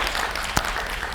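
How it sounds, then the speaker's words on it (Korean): Audience applause during a campus lecture by a novelist and children's author, a continuous wash of clapping with one sharp, distinct clap standing out near the middle, brief and moderately loud. "박수 칠 준비해 주세요"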